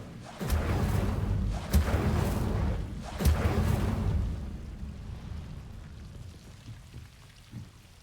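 Incendio fire spell cast in the video game Hogwarts Legacy, several loud whooshing bursts with a deep rumbling body in quick succession, then the roar tails off into quieter crackle with a small final pop.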